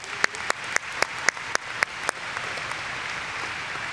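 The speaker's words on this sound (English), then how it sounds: "Let's give our graduates a round of applause." A commencement audience applauds graduates at a college ceremony, a steady wash of clapping that starts with a few louder, distinct claps and then settles into an even, sustained roar.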